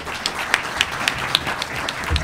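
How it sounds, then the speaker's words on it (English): Audience applause for a panel on PaaS security and privacy: a brief, dense wash of clapping with a few sharper claps standing out, steady throughout the short span. "give them all a round of applause"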